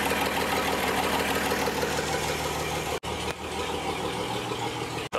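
An Apache truck engine, a barn find left sitting for 20 years, idles steadily and loudly up close with an even, knocking rumble, broken by two brief dropouts.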